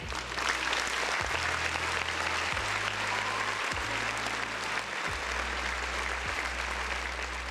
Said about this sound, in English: Let's give Paris another round of applause